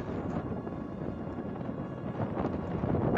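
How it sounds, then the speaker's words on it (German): Continuous low rumbling buffet of wind against the microphone on a bike ride along the Saale cycle path, steady throughout with a slight rise toward the end, no voices. "Es ist jetzt wieder windig."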